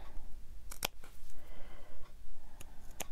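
Scissors snip through a charm made from old gel nail polish, giving two or three short, sharp clicks spaced apart over a quiet background with no talking.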